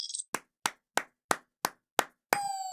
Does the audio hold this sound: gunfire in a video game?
no